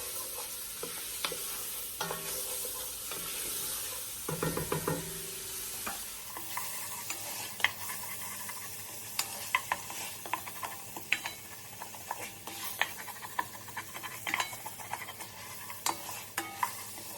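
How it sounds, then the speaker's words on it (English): Vegetables for split pea soup sauté in butter in a pot, a spoon scraping and stirring in repeated close clicks and scrapes over a soft steady sizzle. "So I'm gonna let these saute for about 5 minutes"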